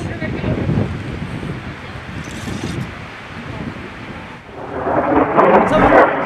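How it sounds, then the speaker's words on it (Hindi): Airstrikes explode in news footage, deep rumbling booms that roll and swell like thunder, with wind-like noise and a louder blast near the end, heard under a voice talking. "شوفوا 4 غارات"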